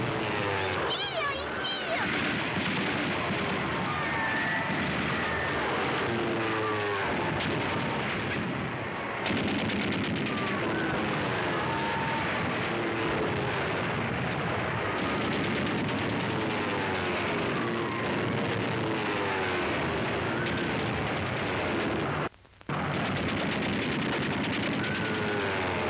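Gunfire from attacking aircraft in a wartime film scene, a dense, continuous rumble of shots and blasts with whistling streaks running throughout, broken by one brief drop near the end, with voices mixed beneath the clamor.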